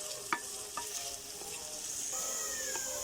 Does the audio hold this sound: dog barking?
no